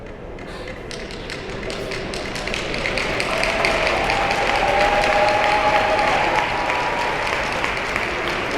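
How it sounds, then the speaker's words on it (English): Crowd applause fills an ice rink after the gold medal game of an ice sledge hockey championship in Buffalo, a sustained roar of clapping that swells and holds, with sharp taps near the start. "another wonderful applause by the crowd inside the first Niagara rink as Team USA are the gold medalists"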